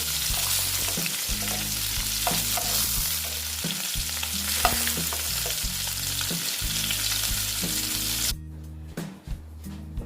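Pieces of rohu fish frying in hot oil, a loud, dense, continuous sizzle with crackling spits close by, which drops off sharply near the end.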